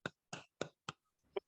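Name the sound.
children clapping for a classmate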